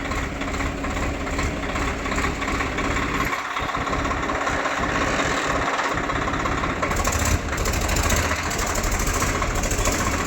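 A Swaraj 855 tractor engine runs steadily in first gear with the brake held, a continuous, loud mechanical drone with a slight surge near the end and no talk.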